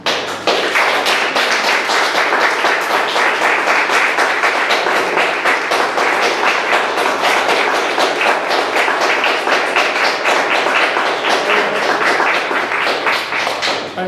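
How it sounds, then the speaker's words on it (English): Audience applause after a lecture in Phnom Penh, a steady dense clapping from a large crowd lasting throughout, fairly close and even in loudness with no talk over it. "I never had that many applause when I was in Cornell."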